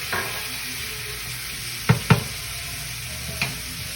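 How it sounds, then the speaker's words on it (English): Morels sizzling in a knob of butter in a pan for risotto: a steady, close hiss of frying, broken by a few sharp clacks of utensils against the pan. "Okay, knob of butter goes in, morels go in."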